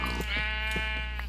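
Sheep in a survival-style video game bleat several times in quick succession over a steady low background drone, close and moderately loud.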